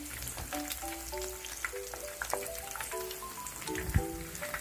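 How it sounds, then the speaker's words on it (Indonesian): Chicken pieces frying in hot oil for Padang-style ayam pop, a steady close sizzle with scattered pops and crackles throughout, no talking. "Saya akan lanjut menggoreng sisa ayam."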